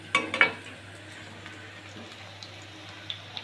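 Onion pakoras frying in hot oil in a pan over a medium-low flame after being turned, with a couple of clattering knocks at the start and then a soft, steady sizzle.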